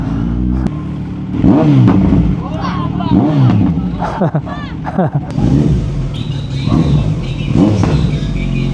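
A 2025 Kawasaki Z900 SE V2 big bike revs hard and loud up close, its engine rising and falling in repeated bursts with crackling pops between them, while voices talk underneath.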